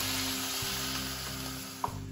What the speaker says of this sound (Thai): ให้ค่อยๆเทน้ำลงไปค่ะ